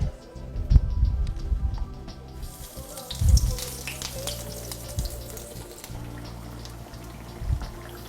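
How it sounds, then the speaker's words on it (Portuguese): Breaded eggplant fries in hot oil with a steady, fairly close sizzle and crackle, swelling into louder bursts near the start and again around three seconds, then settling into a softer continuous frying hiss. "Agora que o óleo já está bem quente, nós vamos começar a fritar."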